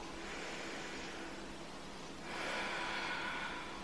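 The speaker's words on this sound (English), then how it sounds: "We'll take 2 breaths here." Breath flows in and out through the nose in yoga warrior two pose, a faint airy hiss that swells into a stronger inhale near the end, close and quiet with no speech.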